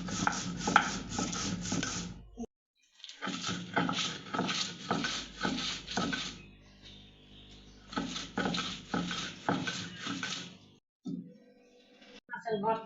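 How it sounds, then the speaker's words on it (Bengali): Boiled, deboned taki fish ground by hand on a shil-pata grinding stone, making repeated rhythmic rubbing and scraping strokes in bursts separated by short pauses, close by. "তারপর শিলপাটায় বাটবো।"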